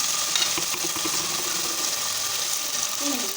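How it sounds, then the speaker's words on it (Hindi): Potatoes with crushed chili frying in a home kitchen pan as a spoon stirs them, a steady close sizzle with light scraping and clinks throughout. "डाल दिया और मैं चमचे चला दी। इसको फ्राई करूँगी"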